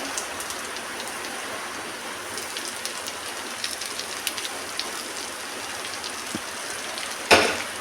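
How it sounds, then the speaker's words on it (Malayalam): Hot oil poured over spice powders for a homemade pickle, giving a steady hissing crackle like light rain throughout, with a brief louder splash burst near the end. "നമ്മൾ ഈ ചൂടാക്കി വെച്ചിരിക്കുന്ന എണ്ണ അതിലേക്ക് ചേർത്ത് കൊടുക്കാം"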